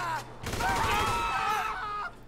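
Gunfire in GTA 5 Online crackles as a short burst of rapid shots, loud and close for a couple of seconds before easing off, with no speech over it.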